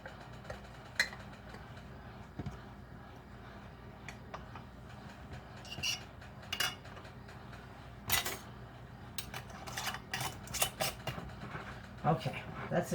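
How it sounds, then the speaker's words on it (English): Faint clicks and light glassy taps of metal lids being set and twisted finger tight onto canning jars of apple slices, scattered irregularly over quiet room tone. "Now I'm going to put my lids on."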